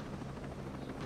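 A military helicopter in Ghost Recon Breakpoint drones steadily up close, its rotor chop a constant, even throb through the whole brief moment with no one talking.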